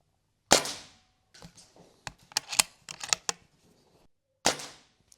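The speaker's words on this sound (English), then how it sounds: "We're shooting here at 15 yards." Two sharp, close shots from an Artemis CR600W air rifle fired at a 15-yard target, spaced about four seconds apart, with quick mechanical clicks and handling noises from loading and cocking between them.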